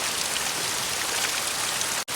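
Steady rain pours down in a rural Gujarati village, a dense continuous hiss of drops striking surfaces that holds evenly throughout and cuts off abruptly right at the end, with no voices.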